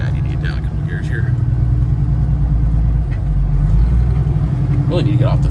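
A hopper bottom semi truck's diesel engine rumbles loudly from inside the cab, a steady low drone with shifting engine pitch as the driver works down through gears, continuous for the whole stretch.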